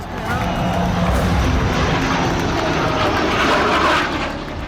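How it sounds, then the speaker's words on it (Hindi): A Tejas Mk-1A fighter jet on its first flight at Nashik roars loudly overhead, a dense, continuous engine rush that swells and holds, then eases slightly at the end. "भारत के स्वदेशी लड़ाकू विमान तेजस MK-1A ने आज नासिक में अपनी पहली उड़ान भरी।"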